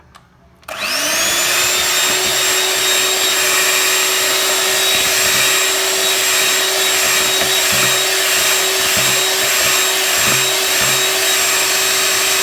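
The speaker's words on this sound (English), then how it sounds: "Whisk this till it is nice and fluffy, okay?" Electric mixer whisking carrot cake batter with eggs, a loud steady high-pitched motor whir starting abruptly and running unbroken, close and alone with no talking.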